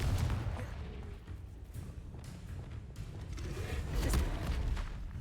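Confringo explosive spell blasts in a Hogwarts video game, a dense run of crackling, booming impacts with a steady roar beneath, no talking.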